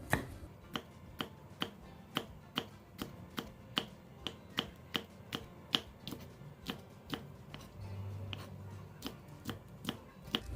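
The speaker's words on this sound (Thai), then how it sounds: "น้ำพริกชี้ฟ้ามาหั่นเตรียมไว้นะคะ แม่ลุงก็จะหั่นเป็นกลมๆ" A knife cuts red and yellow spur chili peppers into rounds on a cutting board, giving a quiet, steady run of about two dozen crisp, evenly spaced chops with no talk.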